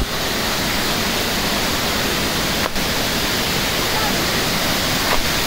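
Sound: Shooli waterfall roaring

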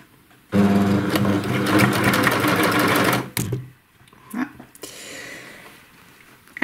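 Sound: sewing machine stitching outercurve binding on shorts

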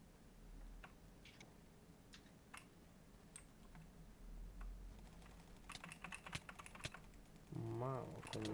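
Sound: typing on keyboard with blue switches

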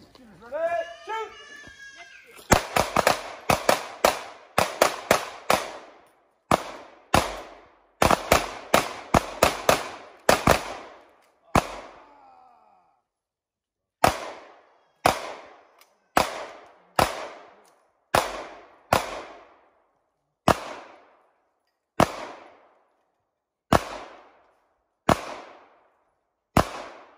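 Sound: handgun shooting at shooting competition

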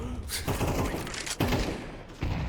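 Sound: gunfire in video game Counter-Strike 2

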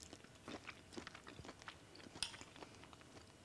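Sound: cook chewing a taste of prawn curry

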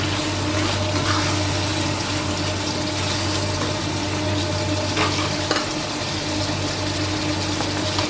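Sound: water added to pan of stir-fried pork cartilage

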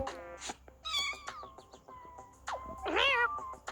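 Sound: cat meowing

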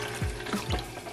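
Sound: water from a tap filling the cat's water bowl

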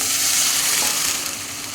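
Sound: hot water poured into sizzling spice masala

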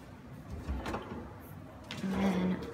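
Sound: pull-out garbage bin drawer being opened in kitchen

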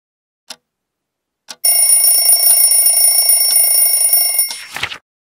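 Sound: alarm clock ringing

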